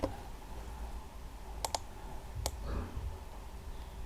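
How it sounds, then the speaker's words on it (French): A computer mouse clicking, a few sharp close clicks, one quick double click followed by a single click, over a faint quiet room hum with no talking. "alors je clique sur copier et par la suite je mets coller"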